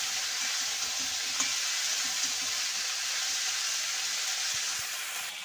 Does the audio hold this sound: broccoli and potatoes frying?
yes